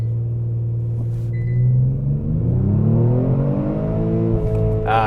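A 2021 Kia Stinger GT launches under launch control: a loud, close engine drone swells and climbs steadily in pitch as the car accelerates hard, with a deep rumble underneath throughout.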